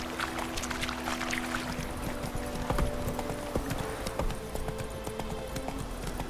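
Hooves of Roach, Geralt's horse in The Witcher 3 video game, gallop at a steady clip-clop rhythm close by, layered over a sustained musical drone and ambient texture with no talking.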